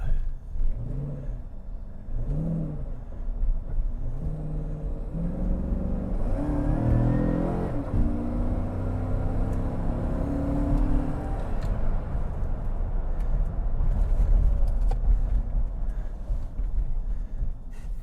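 An idling car engine with a broken motor mount runs at about 900 RPM, a steady close rumble with a few uneven surges and low knocks near the start, with no talking.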